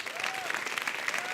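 A conference audience applauds steadily after a set of live demos, the dense clapping loud and close for a brief stretch.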